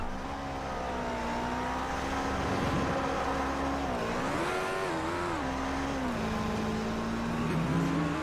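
Motorcycle engine from the Watch Dogs Legion video game, a steady, close droning hum that rises and dips in pitch as the bike is ridden, running continuously without pause.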